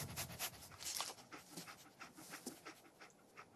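Dogmeat, the German shepherd companion in Fallout 4, pants in quick, steady breaths close by, a continuous rhythmic huffing with no voices over it.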